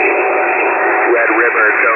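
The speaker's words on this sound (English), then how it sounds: "You can hear the droning noise of the plane in the background." A stealth bomber's steady engine drone sits under a narrow, hissy radio transmission, continuous and even throughout, with a crew member's voice likely carried over the channel.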